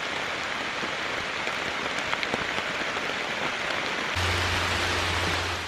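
Dense, steady downpour of heavy rain drumming on surfaces nearby, a continuous rushing patter with scattered louder drops and no voices.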